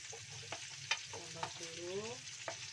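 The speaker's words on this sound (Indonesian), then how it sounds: "goreng brambangnya dulu" Thickly sliced shallots fry in hot oil in a pan with a close, steady sizzle, broken by a few clattering stirs.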